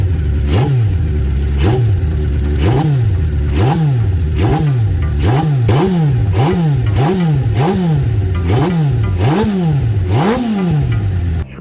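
A 1976 Honda CB550 motorcycle engine revved over and over, loud and close, each throttle blip rising and falling in a steady rhythm of about a dozen revs over a constant idle clatter.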